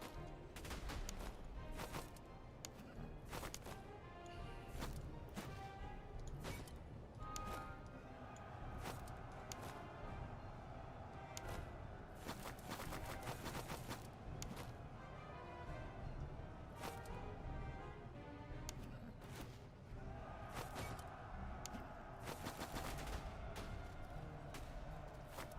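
Dense, overlapping musket volleys from Prussian line infantry in the strategy game Master of Command, crackling steadily for the whole stretch with louder bursts here and there, a busy battle din.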